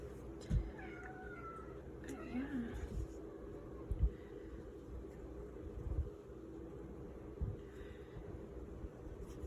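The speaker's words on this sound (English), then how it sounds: "The cat is rubbing up against my leg." A house cat meows softly a few times at close range, its faint rising cries set against steady low room hum and occasional light thumps.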